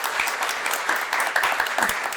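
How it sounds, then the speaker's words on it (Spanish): Audience applause for a panel at a peace-education conference, a dense, fairly close burst of many hands clapping steadily with no talk over it. "un aplauso para este panel"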